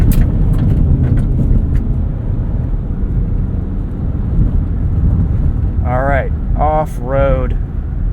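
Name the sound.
Kia Sportage X-Pro driving on washboarded dirt road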